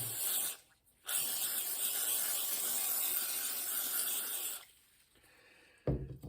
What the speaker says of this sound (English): I'm going to use the Finish Line One Step Cleaner and Lubricant, spray it down,